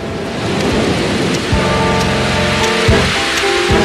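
Heavy rain pouring steadily with deep rolling rumbles of thunder, a loud continuous downpour with a booming crack near the middle, no voices.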